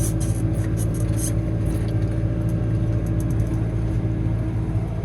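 A Fendt 413 tractor's engine rumbles close and steady as it downshifts under load while pulling a 4.5-metre Ermak land leveler across a field, a continuous low drone with faint rattles.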